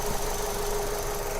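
A Renault Samsung SM5 Impression with its 2.0 LPI engine runs at a steady idle with the hood open, giving a constant low hum and mechanical whir throughout, heard without any talking.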